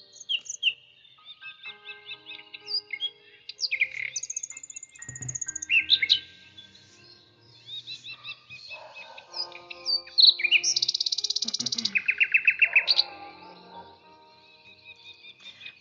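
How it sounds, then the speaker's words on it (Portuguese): Small birds chirp and sing just outside a window, close and clear: varied trills, rapid repeated notes and high whistles overlapping in bursts, with short quiet gaps between phrases and no talking. "Eu amei esse som de passarinho, gente."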